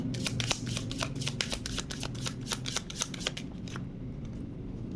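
Tarot cards being shuffled in a rapid, rustling flurry of crisp riffles, close up, trailing off into quiet near the end.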